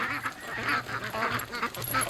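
A flock of ducks, a Muscovy among them, honks and quacks repeatedly while being herded toward a lake on a morning walk, the calls overlapping in a steady, fairly close chorus.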